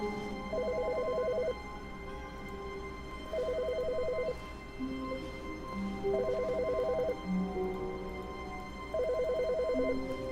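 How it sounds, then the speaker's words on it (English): A telephone rings in The Stanley Parable, four evenly spaced bursts of trilling electronic ringing, steady and clear over a low ambient hum and soft musical tones. "Phone."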